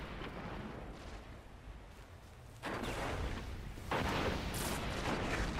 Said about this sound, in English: I just hear explosions and all these bad things right now.